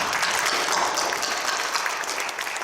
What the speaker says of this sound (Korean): 다 같이 박수로 환영하겠습니다.